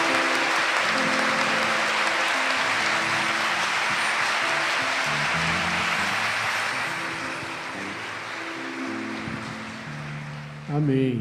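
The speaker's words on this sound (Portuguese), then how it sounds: "Vamos dar uma salva de palmas ao sangue de Cristo." A church congregation applauds during a Catholic homily at a Jericho siege prayer gathering, a dense sustained wash of clapping that thins slightly toward the end, with a voice briefly breaking in at the close.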